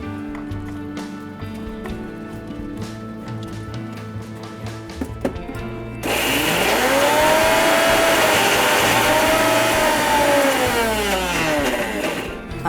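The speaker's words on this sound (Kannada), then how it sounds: "ಇವಾಗ ನಾನು ಮಿಕ್ಸಿಗೆ ಹಾಕೋತೀನಿ" Mixer grinder whirring at full power as it grinds poppy seed paste for chicken gravy, a loud, sustained motor roar that starts abruptly halfway through after quieter clinking and music.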